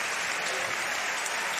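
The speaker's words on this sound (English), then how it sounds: "Steve Guerdat, his teammate, gives him a round of applause as well" Spectators applauding a show jumping round in the jump-off of the Rolex Grand Prix at CHIO Aachen, a continuous wash of crowd clapping, even and sustained, heard from a distance.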